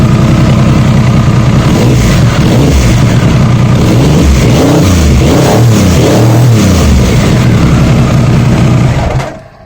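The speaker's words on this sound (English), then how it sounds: "starting a bike and running it and revving it, yeah, it's fine, that sounds great" A Triumph Sprint 900 motorcycle engine runs loud and close, climbing through repeated throttle revs over a steady idle before cutting off abruptly near the end.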